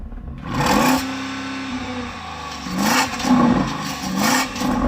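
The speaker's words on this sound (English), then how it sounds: "let's hear the Porsche Cayenne Turbo GT" A Porsche Cayenne Turbo GT engine revs up hard three times, each surge hitting a soft limiter and falling back to a rumbling idle, loud and close.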